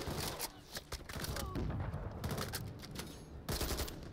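Rapid bursts of automatic gunfire in the video game Call of Duty: Modern Warfare 3, coming in clusters of sharp cracks and booms with brief gaps between volleys, while a voice talks faintly underneath.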